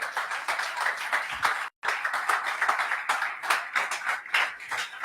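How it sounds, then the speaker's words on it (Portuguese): Steady applause from a church congregation during a service, dense clapping that continues throughout with one very brief break. "Pode aplaudir a Jesus."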